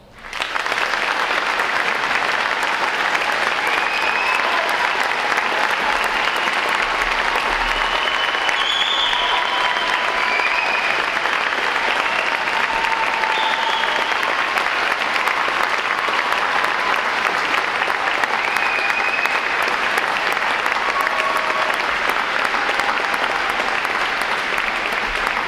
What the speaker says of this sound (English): let's give these midshipman candidates before us, our future, a round of applause